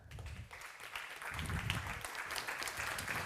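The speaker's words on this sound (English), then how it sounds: "please give a round of applause to managing partner at Rockaway X, Victor Fischer" Audience applause at a space industry conference, a continuous moderate wash of clapping with some low rumble from the room, steady throughout the short stretch.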